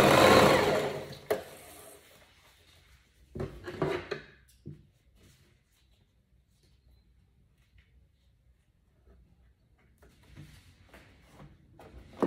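A home sewing machine stitches fabric for tutu socks in a short burst near the start, followed by a few scattered handling knocks and long quiet gaps, with faint machine activity returning near the end.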